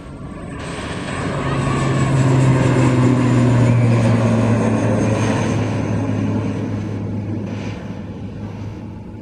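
A Garuda Indonesia airliner roars down runway 04 on its takeoff roll at an Indonesian airport, a loud sustained jet engine rumble with a rising whine that swells to a peak and slowly recedes.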